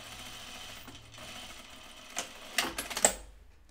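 A sewing machine stitches down the front placket of a Bleuet dress, running as a steady low hum before a few louder, clattering bursts near the end.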